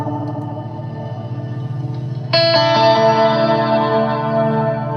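Electric guitar through a Strymon Night Sky pedal blooms into a bright shimmer reverb, a steady pulsing drone suddenly opening into a dense, ringing wash of high octave layers, loud with no talking.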